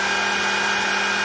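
X-Carve CNC spindle engraving metal gives a steady, loud, high-pitched whine with constant tonal hum, continuous and unbroken over a short stretch, no talking.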